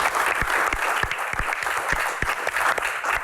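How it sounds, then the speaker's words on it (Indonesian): A studio audience at a comedy Q&A show claps on cue, a lively spread of hand claps with some sharp, close individual claps standing out over the crowd's patter. "Akamsi, tepuk tangan dong Akamsi."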